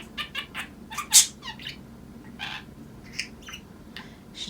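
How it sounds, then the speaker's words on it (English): A pet budgie chirps indoors with short, scattered squawks and tweets, one brighter call standing out, faint and fairly close over a quiet room with no talking. "I don't know if you can hear the budgie."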